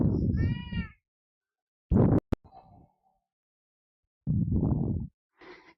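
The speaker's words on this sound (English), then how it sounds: "This is my cat." A pet cat meows in a home, with short harmonic calls separated by pauses, plus a brief clatter and some low background talk.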